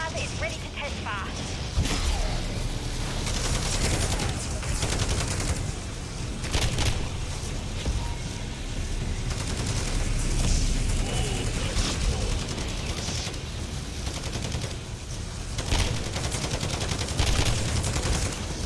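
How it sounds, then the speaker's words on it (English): Weapon fire and mechanical clatter during the Neutralizer test in Modern Warfare Zombies, rapid bursts and bangs in a busy, continuous mix lasting nearly twenty seconds, with speech mixed in. "Neutralizer is ready to test fire."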